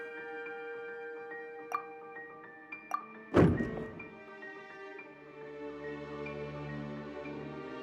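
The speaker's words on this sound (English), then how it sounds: "I seem to have accidentally knocked over a decoration." In the video game Genshin Impact, a decoration is knocked over and lands with a single heavy thunk. A few lighter taps come just before it, all over a soft ambient music bed.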